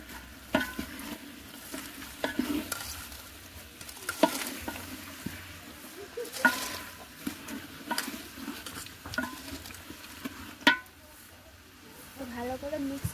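Shredded cabbage stirred through hot spiced oil in a pan, with a steady low sizzle and irregular scraping and clacking strokes of a utensil, while a voice talks over the cooking.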